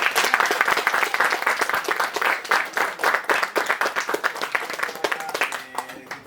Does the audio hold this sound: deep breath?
no